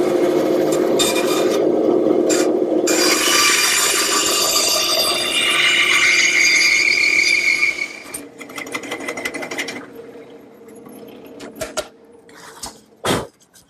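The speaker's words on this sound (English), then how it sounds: "I've tipped my bandsaw to 45 degrees," Bandsaw tipped to 45 degrees rough-cutting a round wood blank, a steady loud rasping cut for about seven seconds, then the blade running quieter with scattered knocks and a final thump.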